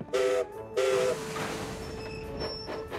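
A small green cartoon steam locomotive pulling a wagon gives two short whistle blasts, then chuffs and rumbles as it gets moving, close and fairly loud with no talk over it.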